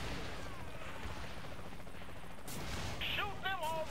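Gunfire in Saints Row The Third in co-op play: a steady rattle of shots under game noise, with a few sharper bursts and a brief voice toward the end.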